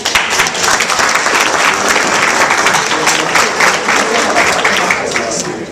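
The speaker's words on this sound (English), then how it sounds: "Let's give a round of applause to Jorge Montalvo" An audience gives a speaker a round of applause, a loud, sustained crowd clapping close by that tapers slightly at the end, with a faint voice underneath.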